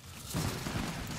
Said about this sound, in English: Here's a plasma grenade.